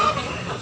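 Chicken at a market in Tabunok, Cebu, a brief close burst of clucking with busy crowd noise around it.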